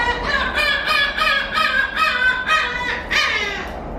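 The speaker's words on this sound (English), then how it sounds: "Man, these birds are loud." Several crows caw loudly and repeatedly near a bird observation area in Japan, harsh overlapping calls in a steady stream of bursts with no talking.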